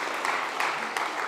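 Applause from the audience at a food summit session at SXSW, a brief, even wash of clapping at moderate distance.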